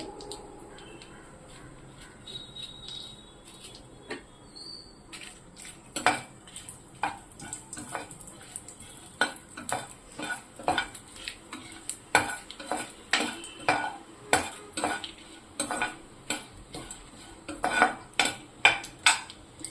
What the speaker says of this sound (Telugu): ఈ ఆయిల్ వేడయ్యాక ఎండుమిర్చి బాగా వేసుకున్నాం